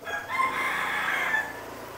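A red junglefowl rooster crows once, loud and close, its drawn-out call rising and then fading away.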